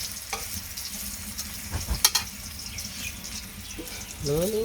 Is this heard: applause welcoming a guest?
no